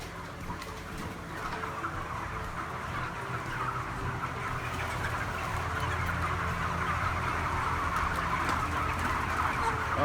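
Chickens clucking inside a large commercial chicken house on a Georgia farm, a dense continuous murmur of many birds with a steady mechanical hum beneath, moderately faint and unbroken throughout.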